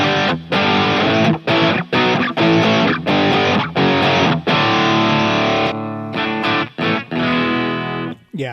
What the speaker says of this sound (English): Okay, so we got the slight distortion.